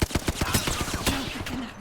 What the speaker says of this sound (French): J'ai un peu canardé.